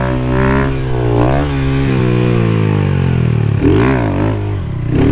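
A Honda Fan 150 motorcycle revving up and easing off, its loud close engine note rising and falling in pitch through repeated accelerations with short braking dips between them.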